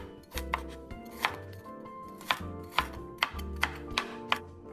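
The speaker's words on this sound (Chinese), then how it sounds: "洋葱半个，80克左右，切成小丁" Rhythmic knife chopping of half an onion into small dice on a cutting board, a dozen or so crisp close taps at an irregular but steady pace, with a low hum underneath.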